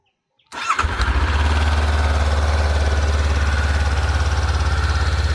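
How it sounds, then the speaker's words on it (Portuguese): A 2024 Honda CB500X motorcycle engine cranks and catches after a brief silence, then idles steadily and loudly up close with an even low rumble and a faint mechanical noise riding over it. "Eu vou ligar a moto para vocês aqui e vou ver se pelo microfone do celular consegue captar esse barulho."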